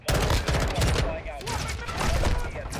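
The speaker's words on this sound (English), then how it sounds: "Wait, he shot me through the wall?" Gunfire in the video game Modern Warfare 2 with an M16, dense rapid bursts of loud close shots cracking one after another without pause, with a voice briefly under the shooting.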